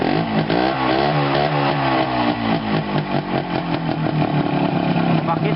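A motorcycle engine revs hard through a muffler under test, its loud, rising and falling roar continuous and close throughout.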